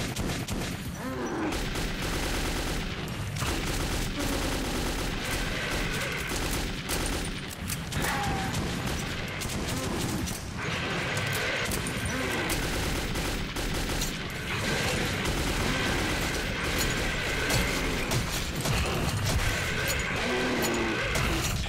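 Gunfire in the video game Metro 2033: sustained rapid bursts of shots and clattering impacts over about twenty seconds, loud and dense, with no clear talk.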